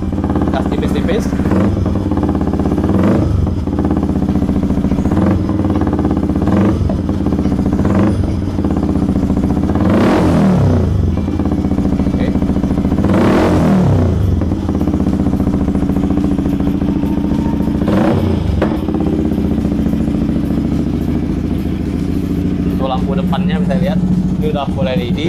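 A Yamaha XSR motorcycle fitted with a Leo Fins exhaust on an upturned custom pipe idles close by, and several light throttle blips swell briefly over the steady rumble before it settles back to idle.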